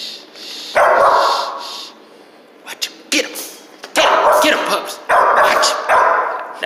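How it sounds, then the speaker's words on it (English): Two-month-old pups bark and yip in loud, close bursts, with short high-pitched yelps between, while someone talks over them. "These are just 2 week old, I mean, 2 month old pups."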